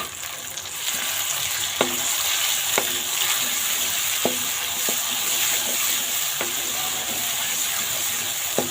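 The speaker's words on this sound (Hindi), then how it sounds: "तो अब हम इसमें ये टमाटर और हरी मिर्च डाल के भूनते" Tomatoes and green chillies fry with onions in a pan, a steady hissing sizzle running throughout with a spoon scraping and knocking against the pan every second or so.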